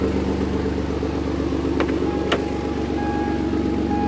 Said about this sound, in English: So it's kind of loud right now, but I mean, it runs good. It's a V6.